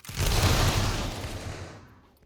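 A massed volley of rifles fired at once in a Roblox game, one dense roaring burst that swells quickly and then fades over about two seconds, loud and alone.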